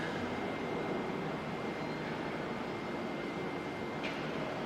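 A Jetstar airliner takes off at Auckland Airport, heard as a distant, steady broadband roar of jet engines that holds evenly throughout, fairly faint and without any talk.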